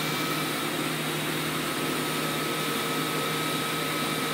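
A steady mechanical hum with a constant whine of a large machine running continuously, unchanging throughout, with no voices.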